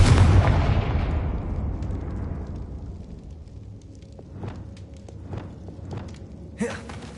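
A Confringo spell explosion in Hogwarts Legacy, a loud booming blast at the start that decays into a long rumbling tail, followed by faint crackles and a short sharp burst near the end.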